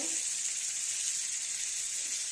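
Steady, loud sizzle and hiss from a pan of nearly fried pangas fish as water hits the hot oil, a continuous bright spitting texture with no voices.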